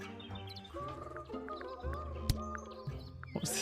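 Video game Tangle Tower plays soft chirping, bleating bird noises woven into gentle in-game music, faint and continuous throughout.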